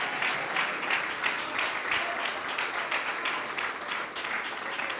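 Church congregation applauding steadily for several seconds, a dense wash of clapping from a crowd with slight rhythmic pulses, moderately loud and continuous.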